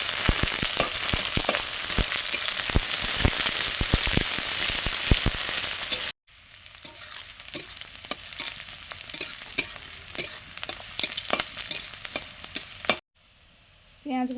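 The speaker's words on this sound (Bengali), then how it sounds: "পেঁয়াজ ভাজা হয়ে গেছে।" Chopped onions fry with dried red chillies and five-spice in a home pan, a close crackling sizzle broken by repeated sharp scrapes and clacks of stirring, then several abrupt cuts in the sound.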